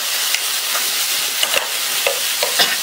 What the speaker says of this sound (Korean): 자, 충분히 볶아주세요.